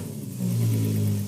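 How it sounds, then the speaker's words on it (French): A Volkswagen Golf 3 with a VR6 engine revs up, the engine note rising and swelling into a loud, steady rumbling roar after a quieter idle, close by with no talking. "c'est un son qui est vraiment particulier sur les moteurs VR6"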